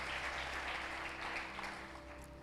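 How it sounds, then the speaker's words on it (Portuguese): A church congregation applauds in praise, a dense, even wash of many hands clapping at a distance that fades slightly toward the end, with faint music underneath. "Você pode dar uma salva de palmas ao Senhor?"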